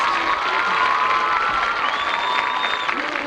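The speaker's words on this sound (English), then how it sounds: "Please give our band seniors a round of applause" A high school crowd applauds and cheers for the band seniors at a senior ceremony, with whoops and shouts riding over a steady wash of clapping, moderately loud and continuous.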